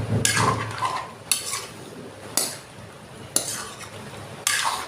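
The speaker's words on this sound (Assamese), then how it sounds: "পূৰা মছলাটো একদম চবৰ লগত মিক্স হোৱাকৈ ভালকৈ লৰাই ল'ব" A spoon is scraped through pork curry with boiled potatoes and spices in a pan, in five distinct stirring strokes about a second apart over a soft sizzle.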